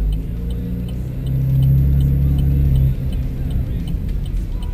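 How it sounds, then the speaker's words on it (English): A 2010 Camaro idles in S mode with a steady low rumble, and a brief swell in engine pitch and loudness midway suggests a light throttle tap before it settles back. "with the car running at optimal temperatures, I'm going to shift into S and tap"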